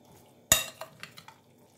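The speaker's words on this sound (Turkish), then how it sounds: "Şöyle ben karıştırdım iç harcımız." Spoon stirring a minced meat and tomato pide filling in a bowl: one sharp clink followed by several lighter scrapes and taps, close and fairly quiet, with no voices.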